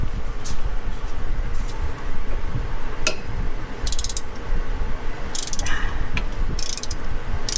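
Long wrench working on a Duramax L5P oil drain plug, sharp metallic ratchet clicks and clinks in short bursts over a constant low rumble, close by.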